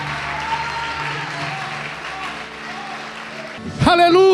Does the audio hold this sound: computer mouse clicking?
no